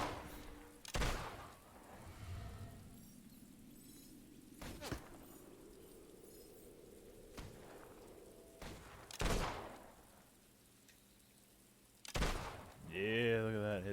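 Scattered gunshots crack out in Fable 2 combat, five or six separate loud reports spaced several seconds apart over a quiet background hum, with a spoken voice near the end.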